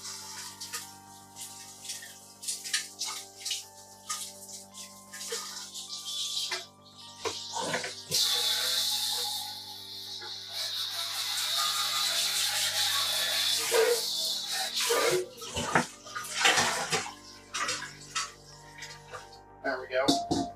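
A pan is rinsed under a running kitchen tap while pork chops cook, with a steady hiss of water and scrubbing heard up close, and a person talking at intervals.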